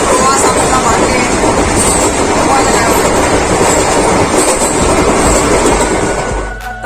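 Inside a moving Indian passenger train on a long-distance journey toward Haridwar, a loud, constant rumble and clatter of wheels on the rails fills the carriage and dips only briefly near the end.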